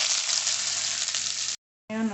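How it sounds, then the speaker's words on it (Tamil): Loud, steady sizzling of finely chopped onion sautéing in a hot pan, close up. It cuts off abruptly, then a voice begins speaking. "நல்லா வதங்குது"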